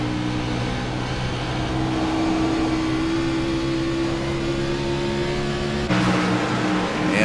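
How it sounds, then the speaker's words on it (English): Race cars lapping Dover International Raceway during an AMS Wounded Warrior Cup Series event, a steady loud engine drone with sustained tones and tire noise, shifting abruptly near the end. "you can really hear those tires working"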